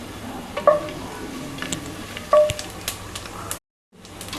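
Whole fennel seeds, cinnamon and cardamom sizzle in hot oil for chicken pulao: a faint continuous crackle with a couple of small clinks and taps, then a brief dropout to silence before the sizzle returns.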